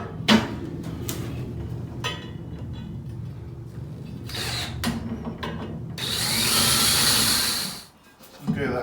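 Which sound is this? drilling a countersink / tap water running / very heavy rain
drilling a countersink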